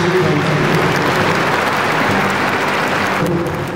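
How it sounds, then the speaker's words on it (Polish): Steady, dense applause from an audience after a school concert performance, loud and continuous throughout with no voices standing out. "brawa dla naszych artystów"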